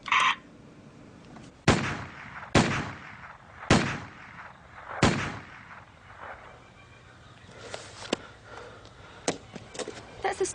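Gunshots from a stolen H&K gun at a pistol range in a police drama, four loud, sharp, close reports spaced about a second apart, followed by fainter clatter and distant pops.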